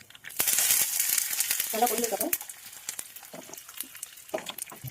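Loud, steady sizzling of spices and curry leaves frying in hot oil for kadhi, with crackles and pops throughout and a brief voice partway through.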